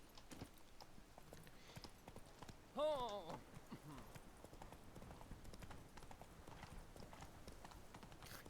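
Roach the horse galloping in The Witcher 3, a fast steady clip-clop of hooves throughout with a brief whinny-like call in the middle, faint and close, under someone talking.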